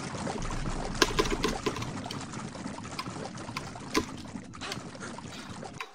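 Water in the Rayman 2 video game, a continuous close pouring and trickling wash with small splashes, sounding murky and busy throughout.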